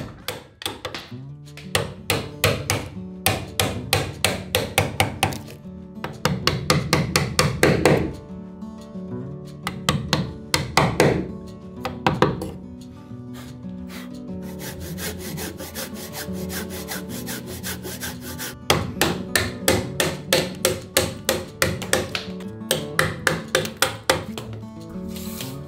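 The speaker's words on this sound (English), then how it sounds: "I'll then cut a notch in this beam the dimensions of the support material." A Japanese woodworker hand-saws a notch into a wooden beam, giving steady rhythmic back-and-forth strokes in several bursts with short pauses between them. The sawing is close and loud, and no one speaks.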